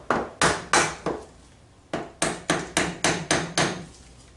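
A brass hammer taps a dirt bike engine's cast iron parts during a teardown: three sharp knocks, a pause of about a second, then a quicker run of seven evenly spaced metallic raps, close and crisp with no talking.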